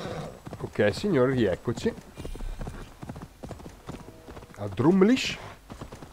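Horse hooves clip-clop steadily in the game Assassin's Creed Valhalla as a mount trots, rhythmic and moderately close, running beneath someone talking.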